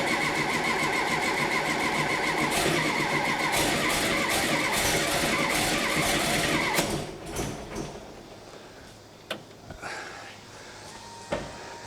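A 1964 Karmann Ghia race car engine with dual 40mm carburetors cranks in a steady churning rhythm for several seconds, then falls quiet with a few scattered clunks and brief bursts, close and loud.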